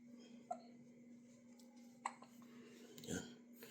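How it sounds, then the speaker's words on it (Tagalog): A baby hiccups in short, sharp bursts, three distinct hiccups spread apart over a low steady hum, with no talking in between. "sinok po yung batang yan"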